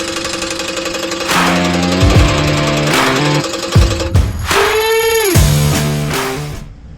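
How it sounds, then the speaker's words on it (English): Pneumatic impact wrench tightening an exhaust downpipe adapter on a 1978 Ford F-700 truck, a loud close rattling whir in several bursts that rise and drop in pitch, with no talk. "I'm going to tighten this adapter here."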